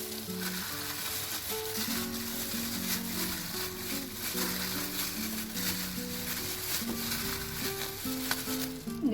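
Oil heats in a pan for frying chicken, giving a dense, continuous sizzle that stays steady throughout, with soft musical tones running underneath.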